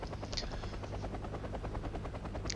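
A Lynx military helicopter in the strategy video game WarGame: AirLand Battle gives a steady, loud rotor chop that holds throughout, with a brief sharp crackle near the start and again at the end.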